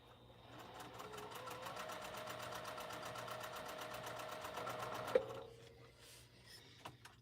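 A freshly oiled sewing machine runs steadily while quilting, a fast even mechanical hum and clatter that stops abruptly near the end, leaving near-quiet with a few small clicks.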